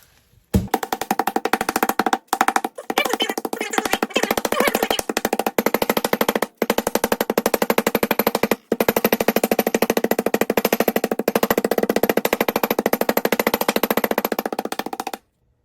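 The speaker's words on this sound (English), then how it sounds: "I'm gonna take my meat tenderizer and just kind of hammer them flat" A meat tenderizer pounds chicken flat with rapid, steady blows, a continuous run of close, sharp thuds broken by a few short pauses.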